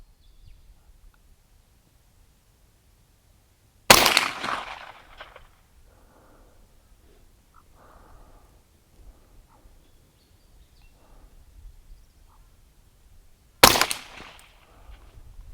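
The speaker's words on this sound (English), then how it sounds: "let's line it up here and take a couple of shots and see how far off we are" Rifle fired twice while zeroing a Pard 008 digital night vision optic, two sharp, loud cracks about ten seconds apart, each with a brief echoing tail, and quiet outdoor ambience between.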